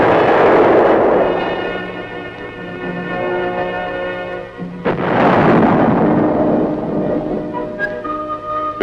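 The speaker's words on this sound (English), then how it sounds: "muzzle blast is a potential source of damage and a hazard to the crew" A tank gun fires twice on an armored vehicle test range, each muzzle blast a loud, broad boom with a long rumbling decay, the second shot landing about halfway through.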